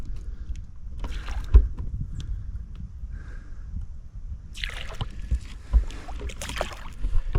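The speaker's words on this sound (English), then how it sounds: "Do some paddling." Paddle strokes from a small inflatable pack boat on Lake Mead, soft splashing and dripping water close by with light wind, and a couple of sharper splashes toward the end.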